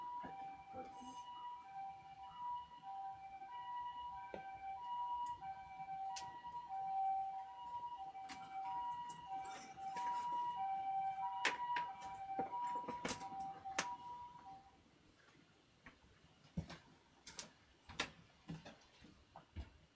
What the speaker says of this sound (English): Is that an ambulance that stopped right outside our place?